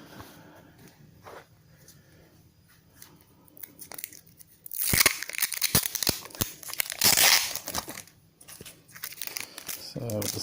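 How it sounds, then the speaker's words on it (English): Sticky tape is torn from a roll and pressed onto the lid of a Samsung CLX-4195 colour laser printer during a paper-jam fix: a few seconds of quiet handling, then a burst of crinkly ripping and pressing noises up close. "It's advisable to get some sticky tape and tape the lid"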